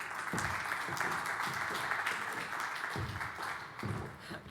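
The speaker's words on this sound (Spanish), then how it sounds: "La recibimos, por favor, con un aplauso." Audience at a transport and maritime congress panel applauds as the moderator is welcomed, a dense, sustained clapping that swells and fades slightly over several seconds, fairly distant in a large hall.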